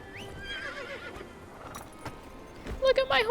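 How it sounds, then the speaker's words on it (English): A horse in the Game of Thrones Kingsroad video game answers a call with a loud whinny near the end, after hoofbeats and background sounds under a voice. "Oh, I get to call my horse."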